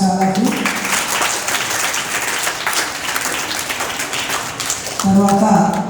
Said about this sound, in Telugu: క్లాప్స్ అలాగే.